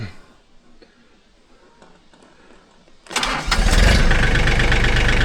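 A Mahindra Max 26 XL tractor loader cranks over briefly after quiet handling noises, then its engine catches and settles into a loud, close, steady idle rumble.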